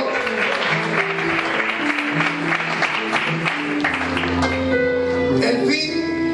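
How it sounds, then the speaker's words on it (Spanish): A church congregation applauding after a Spanish sermon on salvation, continuous clapping blended with loud sustained music throughout. "le pueden dar un fuerte aplauso para el Señor"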